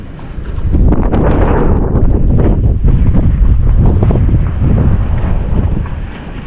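Strong outdoor wind blasting the microphone on a farm with horses, a loud, rumbling, continuous roar that rises quickly and stays heavy before easing slightly at the end, with no speech.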